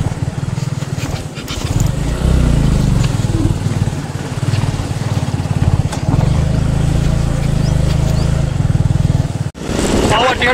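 Motorcycles cross the bridge linking Tanahun and Puttar, their engines droning loudly and steadily close by, rising and falling as they pass, with a brief dropout near the end.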